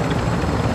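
Loud, close rotor and engine roar of a helicopter landing in a combat video game, a dense continuous drone with no speech across the short moment.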